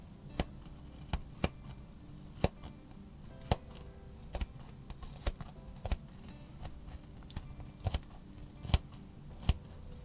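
Suturing scissors snip through a kitchen sponge in a series of crisp, sharp clicks at an uneven pace, close and fairly faint over a quiet room with no talking.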